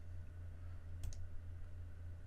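A single quick computer mouse click sounds in a quiet room over a low steady hum, used while working in CNC nesting software.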